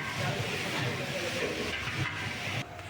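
Small onions are tempered with dried red chillies and cumin in a large cooking pot for a big batch of sambar rice, producing a loud continuous hiss and roar of hot oil that drops slightly near the end.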